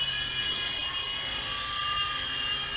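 A small GP Toys G610 3.5-channel RC indoor helicopter hovering nearby, its electric motor and rotor giving a steady high-pitched whine and buzz that holds constant throughout, with no talking.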